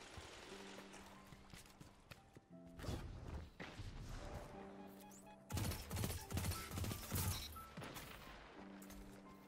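Rapid bursts of gunfire from players' weapons in the video game Destiny 2, with loud clustered volleys and sharp impacts over a steady game soundscape and music, heaviest in the latter half.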